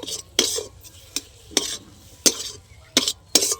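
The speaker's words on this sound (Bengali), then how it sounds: "জিরের গুঁড়োটা একটু নেড়ে নেব" Cumin powder being stirred into a flat-bean (shim) mash in a pan: about seven sharp, close scraping strokes in an uneven rhythm, with quiet pauses between them.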